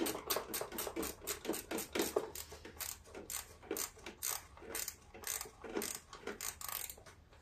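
Rapid rhythmic ratcheting clicks as a wrench snugs bolts near the tank of a Troy-Bilt riding lawn mower, steady repeated strokes, close and fairly quiet.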